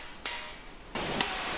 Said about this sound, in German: Das metallische Klingen erscheint, wenn das Blech ohne Hohlraum auf dem Dolly liegt und der Hammerschlag direkt auf den Fäustling trifft